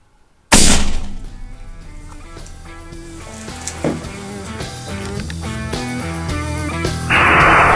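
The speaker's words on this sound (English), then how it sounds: "Shot her with a 7x57 in the lungs" A 7x57 rifle fires at an impala ewe, a single loud, sharp shot that cracks suddenly and then rings out and fades into a long outdoor tail, with no one speaking afterward.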